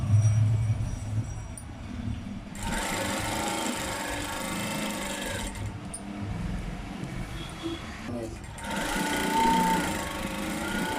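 Domestic sewing machine stitching a cotton inner skirt (petticoat), a steady close mechanical hum with a few short stops and restarts of the motor, no talking heard.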